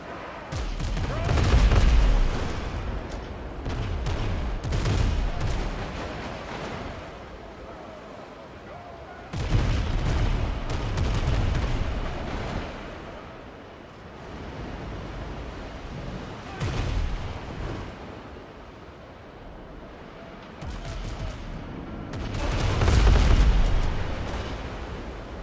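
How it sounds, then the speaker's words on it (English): Heavy ship cannon fire in a video game naval night battle booms out in several separate volleys, each a deep blast with rumbling echoes, spaced apart by quieter stretches. "Man the cannons."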